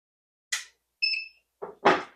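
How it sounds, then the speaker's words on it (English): A short electronic beep from a pressure canner signaling done, with clean steady tones, preceded and followed by brief soft noises; quiet surroundings otherwise. "And now you'll hear it beep, and it says done."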